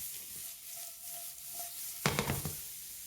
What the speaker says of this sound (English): Now you have to sear them, sear the mushrooms to caramelize them.